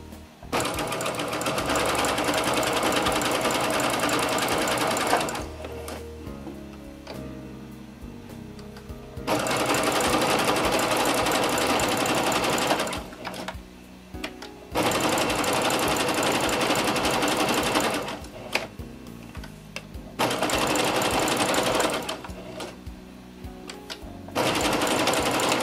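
A sewing machine runs in long loud bursts of several seconds each, stitching over the edge of T-shirt fabric, with short quieter pauses between runs and no talking.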